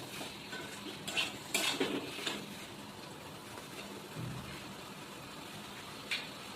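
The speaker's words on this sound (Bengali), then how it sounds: "খাসির মাংস যত ভালো করে কষানো হবে তত খেতে সুন্দর হবে।" Mutton is sautéed in a pot with a spoon scraping and clinking against the metal, giving a few irregular stirring knocks and scrapes over a quiet background of faint cooking sizzle.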